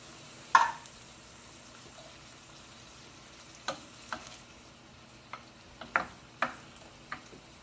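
Sliced olives get stirred in a pan with a spoon, producing a handful of sharp, separate clicks and scrapes over a quiet, low sizzle. No one speaks.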